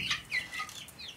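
Yellow hen clucking softly in a farmyard, a few short bright calls close by, followed everywhere by adopted guinea fowl chicks.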